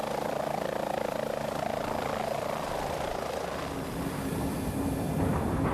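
A helicopter flies close by, its rotor thumping in a continuous rapid rhythm over a loud engine roar that holds steady throughout.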